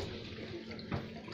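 Running water from a tap in a cruise ship cabin bathroom splashes and gurgles steadily, fairly faint, with a brief louder gush partway through.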